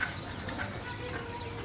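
Pigeons in a group of about twenty being handled for sale give soft, low cooing with faint rustling and brief wing movement nearby, continuous over a short moment, with no speech.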